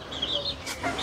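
A rare-breed chicken, about fourteen years old, clucks close by in a farmyard, giving a few short, uneven calls over faint background noise.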